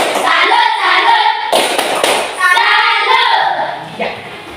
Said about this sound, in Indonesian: Sekarang kita bersama-sama melakukan tepuk salut untuk diri kita masing-masing.